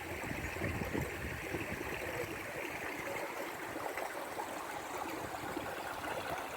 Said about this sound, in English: Wonderful rushing water to fill your ears.